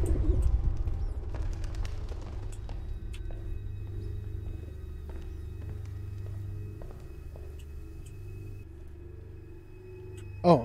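Bird cooing in the video game Observer, a soft, repeated coo heard over a steady low ambient drone for several seconds, with faint scattered clicks.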